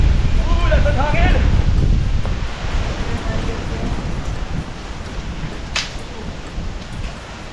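Strong outdoor wind roars and buffets the microphone during rubbish hauling, loud and steady at first and easing slightly, with faint voices underneath.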